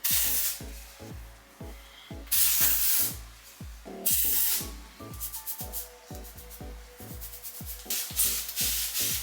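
Dry shampoo sprayed from an aerosol can onto natural hair, a run of short close hissing bursts in quick succession, some longer blasts between them, with faint rubbing sounds underneath.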